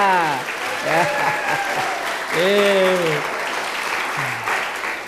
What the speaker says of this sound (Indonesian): sekali lagi tepuk tangan untuk para pemukul gamelan kita